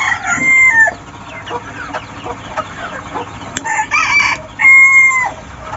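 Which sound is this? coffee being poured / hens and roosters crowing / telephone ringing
hens and roosters crowing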